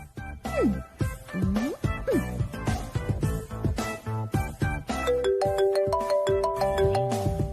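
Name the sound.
phone ringtone ringing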